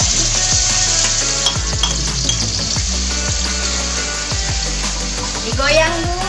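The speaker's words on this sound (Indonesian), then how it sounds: "Kita tumis-tumis bumbunya sampai wangi ya." Spice paste sautéing in hot oil in a pan, a loud continuous sizzle with a run of periodic stirring scrapes and faint clinks, no talk over it.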